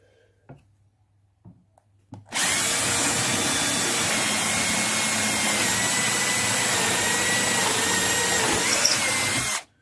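A power drill boring through wood while building an artist's easel: after a couple of light handling knocks, the motor kicks in with a loud, steady high-pitched whir that runs for about seven seconds, then stops abruptly.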